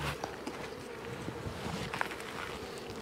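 Honeybees humming steadily as the first hive in a spring apiary is opened, a low, even buzz throughout with faint rustles and small knocks from handling close by, no speech.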